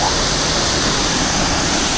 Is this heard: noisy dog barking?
no